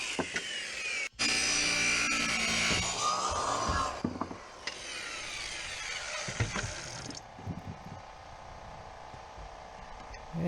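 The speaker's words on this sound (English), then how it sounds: "Cutting the posts for the railing at the top. And then trimming off the excess." A power saw cuts wooden railing posts for an elevated deer blind, a loud sustained whining buzz through the wood that stops and restarts, followed by quieter scraping and handling noises as the excess is trimmed off.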